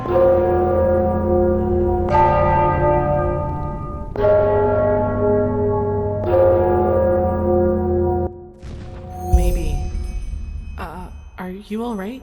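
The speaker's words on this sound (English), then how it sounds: "I'm sure the bells have something to do with the riddle." Church bells toll in a fantasy game setting, four long resonant strikes about two seconds apart, each ringing out with rich overtones, followed by a brief burst of other game sounds.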